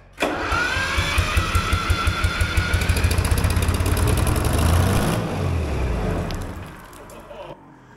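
A two-stroke Detroit Diesel engine left sitting for over six years cranks, then fires and catches, running loud and close with a rapid knocking rhythm for several seconds before winding down and cutting out.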